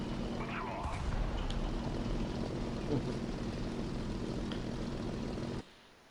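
Propeller plane engine droning during takeoff in the video game War Thunder, a steady loud roar that cuts off abruptly near the end.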